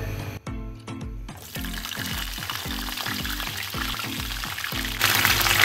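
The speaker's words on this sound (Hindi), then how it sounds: "आलूओं के बाद हम गोभी, उसको भी इसी तरह शैलो फ्राई कर लेंगे" Cauliflower shallow-frying in oil after potatoes for a mixed vegetable dish, giving a steady close sizzle and crackle with some clattering and pouring-like noise throughout.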